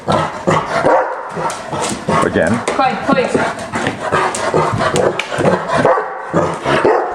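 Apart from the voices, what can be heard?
dog barking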